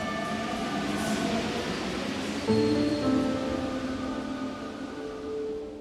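A Kolkata metro train runs with a steady rumbling roar, its pitch shifting midway as tonal whines from the motors and wheels rise and settle, continuous throughout with no talk.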